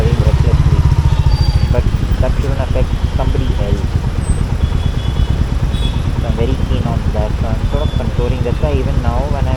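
Royal Enfield Meteor motorcycle engine riding through Bangalore city traffic, a steady loud rumble with shifting revs throughout, under continuous talk from a nearby voice.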